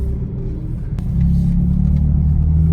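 A rebuilt, previously wrecked BMW M4 accelerates on a test drive, its engine note rising into a steady, loud rumble heard from inside the car.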